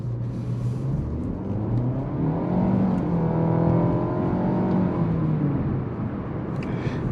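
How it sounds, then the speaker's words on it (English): A 2023 Nissan Altima accelerates from inside the cabin, its engine note rising steadily in pitch as a smooth, continuous drone beneath road and tire noise, with no talking. "Nope, it's accelerating."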